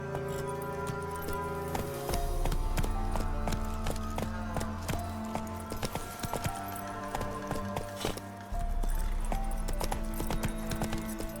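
Roach, a horse in The Witcher 3, trots with steady clip-clop hoofbeats alongside layered game music and ambience, and the hooves stay close and clear throughout.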